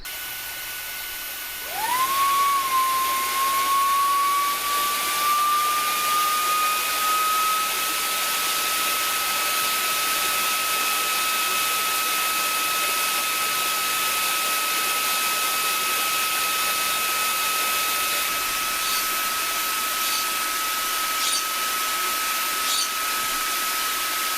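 A Makita AS001G cordless mini blower spins up and runs steadily, a loud continuous airy rush with a rising whine that settles into a constant tone for over twenty seconds.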